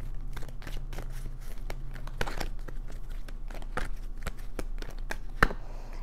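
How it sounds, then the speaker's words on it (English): Tarot cards are shuffled by hand up close, a soft continuous papery riffling and crinkling with small taps, ending in one sharper click. "as I was shuffling"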